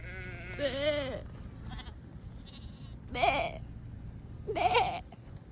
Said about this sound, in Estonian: Ärge minge ära, lambukesed.